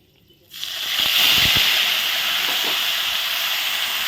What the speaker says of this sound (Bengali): প্রথমে এখন টমেটো পেস্ট দিয়ে দেবো